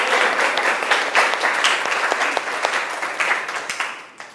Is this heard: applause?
yes